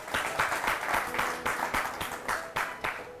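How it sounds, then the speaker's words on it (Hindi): Lively applause from a crowd at an award ceremony, rhythmic bursts of clapping rising and falling steadily throughout, with no talking. "जोरदार तालियां।"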